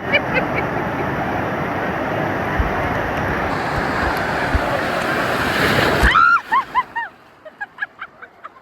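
Waves crash and churn in the Typhoon Lagoon water park wave pool, a loud, steady roar with wind buffeting the microphone, then it cuts off and leaves a few short bird-like honks and faint voices.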